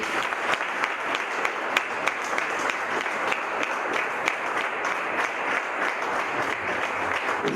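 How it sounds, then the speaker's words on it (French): Steady audience applause at a mayor's investiture ceremony in Trois-Rivières, many hands clapping evenly and continuously at moderate distance for several seconds, with no talking over it. "Donc, messieurs, dames, je vous prie de applaudir."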